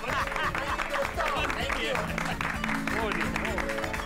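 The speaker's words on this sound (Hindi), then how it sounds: "अब्दुल और अब्दुल की सोडा के लिए तालियां तो बनती है।" Clapping from a small group in a Hindi comedy scene, mixed beneath overlapping voices of people talking.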